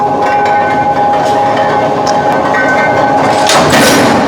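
Heavy-duty slot punching and cutting tool working through metal stock, giving loud, continuous machine rumble with a heavy thud and a burst of harsh noise near the end.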